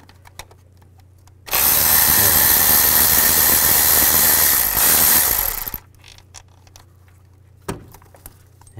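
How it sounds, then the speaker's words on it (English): A tool spins out intake nuts and bolts with a 10 mm socket on a 2005-2015 Nissan Xterra, one loud continuous whirring burst lasting about four seconds between quiet stretches. "Now we're gonna take the nuts and bolts out. For the intake, use a 10 millimeter socket."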